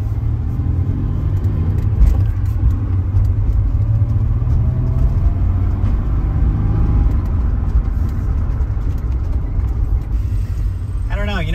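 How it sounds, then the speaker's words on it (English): Nissan 300ZX engine with a new intake plenum given a slow rev while checking ignition timing, a loud steady rumbling drone that rises gently, close, with talking over it. "So let's take off here, give it a slow rev, and we'll see what happens."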